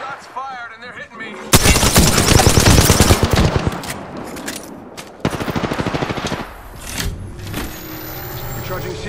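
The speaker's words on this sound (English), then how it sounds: "Shots fired and they're hitting me." Video game gunfire with rapid automatic bursts and a heavy volley, loud and dense for several seconds, then a second shorter burst, with vehicle engine noise and a talking voice in the background.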